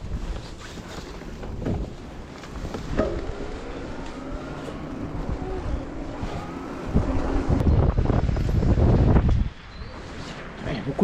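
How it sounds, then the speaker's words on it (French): Strong wind buffeting outdoors near a boat, heard as roaring, gusting broadband noise that swells louder toward the end, with speech audible beneath it. "Il y a beaucoup de vent."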